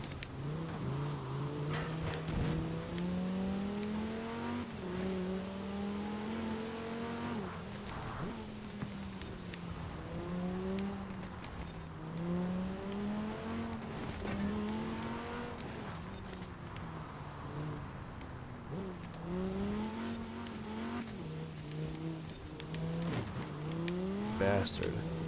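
A 2058 Quadra Turbo-R V-Tech racing in Forza Horizon 4, its engine revving and shifting through gears in a steady rising-and-falling drone, fairly quiet and continuous, with no talk over it.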